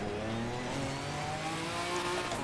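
A GT4 race car engine in Assetto Corsa Competizione drones steadily with a rich, buzzy tone, its pitch climbing gradually as it revs, heard alone without talk.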